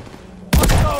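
Bomb blast in the Call of Duty Vanguard multiplayer game, a sudden loud booming burst that erupts after a half second of quieter background and rumbles on with crackling debris to the end.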